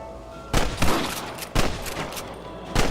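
Gunfire in the Western video game Red Dead Redemption: loud, close shots cracking out in three separate bursts over a steady background, each with a short rolling tail.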